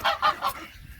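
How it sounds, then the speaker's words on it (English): Three loud goose honks in quick succession, harsh and nasal, close by, followed by a brief quiet tail. "we have our boy geese over there"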